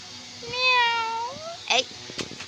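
A frightened cat stuck up a tree gives one long, clear, drawn-out meow close by, followed by shorter faint mews, with bits of human speech and light background noise around it.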